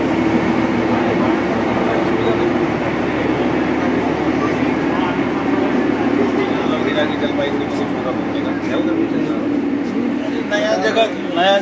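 Darjeeling toy train running on the Siliguri to Darjeeling route, heard from inside the engine room as a loud, steady rumbling roar with rail clatter, and people talk over it throughout.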